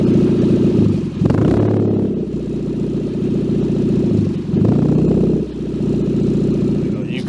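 A Ford Fiesta Mk6 idles with a misfire, a loud, close, steady engine drone whose exhaust note drops out and surges back twice, with a voice talking over it.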